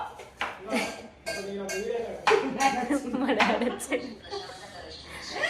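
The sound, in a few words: pots being clanged deliberately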